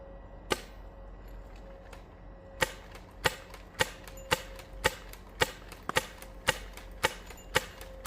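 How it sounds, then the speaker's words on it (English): A 3D-printed slab gun slam firing at an outdoor range: a rapid string of about a dozen sharp, loud reports, one isolated shot followed by closely spaced rhythmic cracks, with a steady background hum underneath. "One of my favorite unintentional features with the slab is the fact that it also has slam fire."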